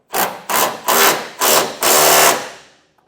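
Ratchet wrench with a 19 mm socket running down a TorkLift frame-mount tie-down bolt into a Chevrolet truck bed, five loud close rasping bursts in a steady rhythm, the last one longest.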